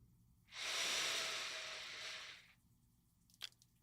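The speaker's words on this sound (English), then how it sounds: "Take one final slow inhale" A slow, deep inhale through the nose during a guided morning breathing exercise, one long soft airy breath lasting about two seconds, close and quiet.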